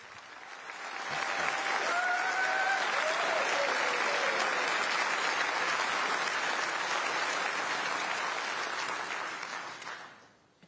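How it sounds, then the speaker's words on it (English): Audience applause greets Tom Tugendhat at a Conservative leadership candidate speech, a broad, sustained roar of clapping that swells in, holds steady for several seconds, then fades away. "Let's see how he handles the applause."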